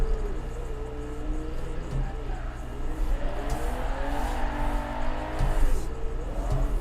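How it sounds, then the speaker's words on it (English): A rear-wheel drive BMW in a racing game drifts with a revving engine that swells and dips, tires squealing in sliding arcs under a constant loud drone. "which is why I'm struggling to drift this car now, because it is rear-wheel drive."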